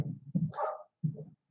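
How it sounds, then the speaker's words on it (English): Dogs fighting and barking in the distance, two short bursts of gruff barks and snarls with a brief higher yelp between them, separated by a moment of quiet. "the dogs are fighting up there."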